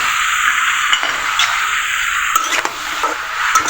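Snake gourd frying in a pan with chopped onion and green chilli, stirred steadily with a spatula: a continuous close sizzle with soft scraping strokes and a few light clinks, no voices.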